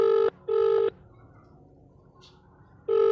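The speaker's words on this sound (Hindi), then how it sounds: "करो बेटा, उसको फोन करो और बोलो हम लोग लड़का देखने के लिए आएंगे।" Touch-tone telephone keypad being dialed at home before a call, three distinct steady DTMF tones in separate bursts with a quiet gap of room noise between them, close and clear.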